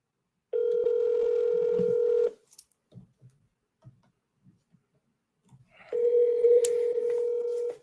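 Telephone dialing tones for a commercial real estate cold call, two long steady beeps separated by a few seconds of faint clicks and near silence, loud and close.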